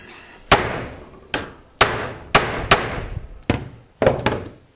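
A hammer drives a chisel into copper for a go-kart exhaust heat shield, landing seven sharp, loud metallic blows at a steady pace, each ringing briefly before the next.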